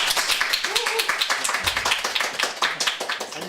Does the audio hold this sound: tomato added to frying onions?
no